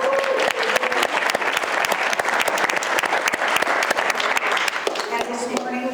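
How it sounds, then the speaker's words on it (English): An indoor audience applauds continuously for several seconds, dense clapping from many hands at a steady level, with a faint voice near the end. "So can we get a round of applause?"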